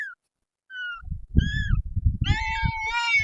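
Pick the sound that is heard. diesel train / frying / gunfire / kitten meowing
kitten meowing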